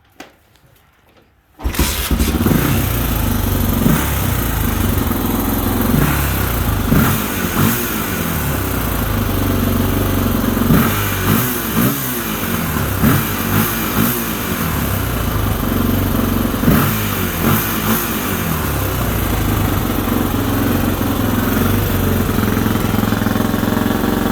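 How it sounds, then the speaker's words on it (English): After a moment of quiet, a Honda XR400R motorcycle engine is kick-started and runs loudly, idling rough with repeated revs rising and falling throughout. "I'll probably hop on it and kick it over just to show you that I can actually start my own motorcycle"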